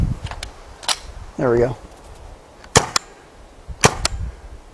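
A RAP4 T68 M4 paintball gun fires several sharp single shots spaced a second or so apart outdoors, close and loud, with a short spoken remark in between.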